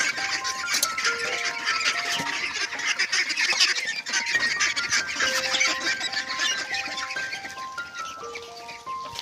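Ducks on a farm, many quacking and honking calls overlapping in a busy, continuous chorus at close to moderate distance, with no talk.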